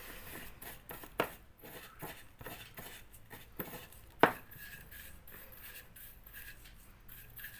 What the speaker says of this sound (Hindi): मिक्स कर लेना है मस्टर्ड ऑयल चीनी में।